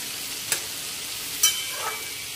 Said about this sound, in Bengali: এবার ভালো করে কড়াতে মিশিয়ে নিচ্ছি।